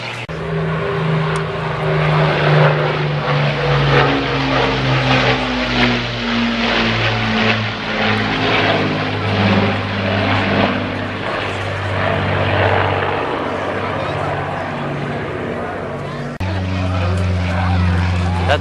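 A propeller airplane flies at an airshow, its engine droning steadily and loudly throughout with shifting pitch as it passes, while spectators talk nearby.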